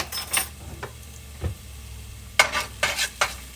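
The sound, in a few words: minced garlic sizzling in a skillet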